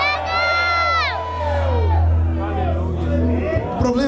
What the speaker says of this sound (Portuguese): Posso ouvir um grito de glória a Deus bem alto?